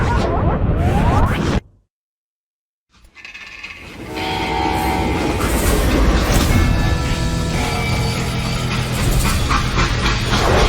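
A train in the video game Call of Juarez: Gunslinger rumbles loudly, cuts out to near silence for about a second, then returns as a dense, sustained mechanical roar with tonal horn-like layers, steady and close.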